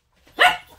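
A three-month-old puppy gives a single sharp, loud bark while herding chickens into a corner, close to the microphone, with no talk over it.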